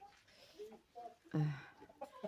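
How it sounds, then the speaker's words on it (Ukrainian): Roosters on a farm cluck and crow in short bursts, one louder call standing out in the middle, with a person talking nearby. "Які файні когути."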